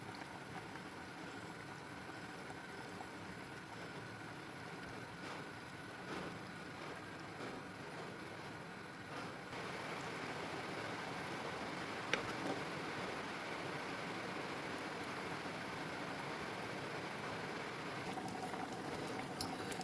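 Fish curry masala paste boils in a pot with a steady, soft, continuous bubbling simmer that runs evenly throughout, quiet and close, with no speech.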